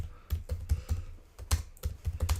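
Brisk typing on a computer keyboard, with crisp, close keystrokes in uneven bursts and short pauses between words.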